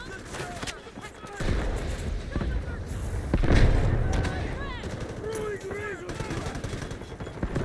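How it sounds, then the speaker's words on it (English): An artillery barrage mixes with bursts of gunfire in the Delta Force video game: rapid cracks and heavy booms roll over a dense battlefield din, and a radio-style voice talks over the fighting. "Got them pinned down. Artillery barrage ready."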